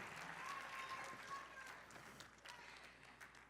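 Applause for a child performer at a city State of the City event, steady clapping from an audience throughout, with a faint spoken voice mixed underneath.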